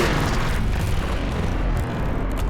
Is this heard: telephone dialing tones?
no